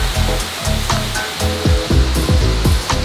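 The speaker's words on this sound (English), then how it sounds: "I don't even know if you can hear me because this waterfall's so loud" Kitekite Falls, a waterfall in New Zealand, roars close by as a loud, continuous rush of broadband noise, with rhythmic low thumps over the constant wash.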